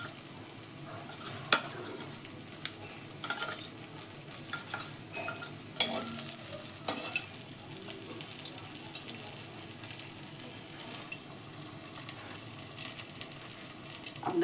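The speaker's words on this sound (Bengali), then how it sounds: "কর্নফ্লাওয়ারের জলে ডুবিয়ে 1 কোট করেই করব, কড়াতে দিয়ে দিলাম" Chicken pakora kebab pieces dipped in cornflour water sizzle in oil in a wok, with scattered clinks and stirring knocks over a soft, steady frying hiss at moderate level, no talk.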